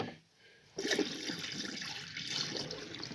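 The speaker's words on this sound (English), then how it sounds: "the next step in the process is dumping the antifreeze in the drains" Antifreeze poured into a cabin drain during winterizing, a sudden rushing, gurgling liquid flow that starts after a short quiet pause and continues steadily and close.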